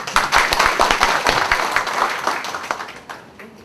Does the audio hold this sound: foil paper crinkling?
no